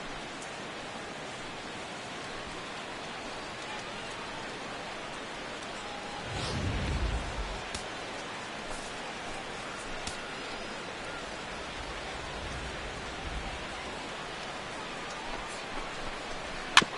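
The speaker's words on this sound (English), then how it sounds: "This may have something to do with the rain that's falling out there." Rain in a baseball video game falls as a soft, steady hiss beneath the broadcast ambience, with a brief low rumble partway through.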